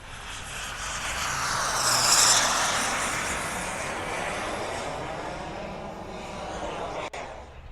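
A 64mm electric ducted fan model jet makes a slow pass down a runway, a steady high-pitched whine that swells as it nears and then fades slightly, loud and continuous outdoors.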